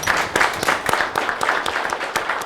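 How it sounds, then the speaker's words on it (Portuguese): Steady applause from an audience at a lecture held at a bar association, honoring a female doctor, with dense overlapping claps filling the whole stretch at a fairly close, even level. "Doutora Flávia, eu peço uma salva de palmas."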